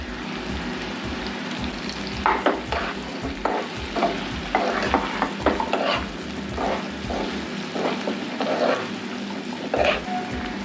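Long-sliced okra hitting a hot pan for mirchi bhendi bhaji, crackling and sizzling steadily, with intermittent scraping stirs and light pan knocks close by.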